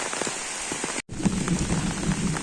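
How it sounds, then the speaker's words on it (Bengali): Rain pouring down near a riverbank in the morning, a dense steady patter of drops hitting surfaces close by, broken only by a brief cut, with no voices. "বৃষ্টি আসছে তো"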